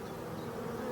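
A swarm of honeybees buzzes in a steady, dense hum on an evening when the swarm has dropped into nettles, close but fairly soft.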